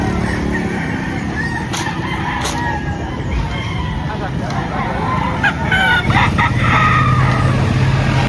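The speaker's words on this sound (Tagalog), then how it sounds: "Daming manok ni Sir Jerome." Many chickens and roosters at a poultry farm crow and cluck in an overlapping din, some calls close and others farther off, with people talking in the background.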